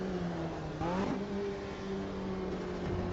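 A race car engine on a qualifying lap in the sim racing game Automobilista 2, a steady droning hum that rises and shifts pitch briefly, moderately quiet and continuous throughout.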